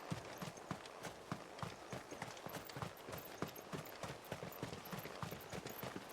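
A horse in a video game gallops off toward the stables, its hooves a steady, rapid clip-clop rhythm at moderate distance with no talking over it.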